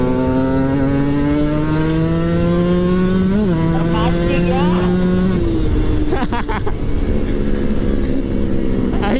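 A Kawasaki Ninja RR motorcycle engine revs and climbs in pitch, with a steady harmonic drone that shifts and rises, loud and close, with people talking faintly around it.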